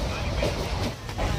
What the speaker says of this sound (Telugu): ఫైనల్గా ట్రైన్లో అయితే ఉన్నాం.